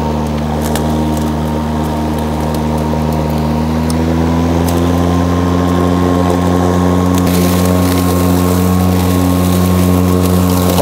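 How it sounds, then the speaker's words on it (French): Toro self-propelled battery lawn mower running steadily on a slope, with a constant loud motor and blade hum and a slight shift in pitch partway through. No talking over it. "C'est une tondeuse, c'est pas une débroussailleuse"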